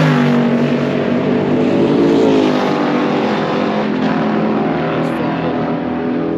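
A Ford Mustang race car at full throttle on the Goodwood circuit, sliding sideways out of the last corner, a loud, close engine roar that holds steady and strong for the whole stretch.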